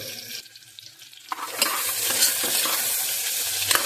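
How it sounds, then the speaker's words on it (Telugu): Long-sliced onions sizzle in a pan, quiet at first and then jumping to a loud, dense frying hiss as they are stirred, with scraping strokes over the crackle. "పొడవుగా కట్ చేసుకున్న ఉల్లిపాయలు వేసేసి"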